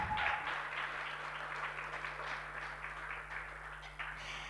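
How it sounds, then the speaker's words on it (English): Audience at a children's day celebration applauding steadily, a sustained wash of clapping at moderate level that carries on for several seconds, fairly distant, with a low electrical hum beneath and no speech. "Please let us give them a round of applause to honor them."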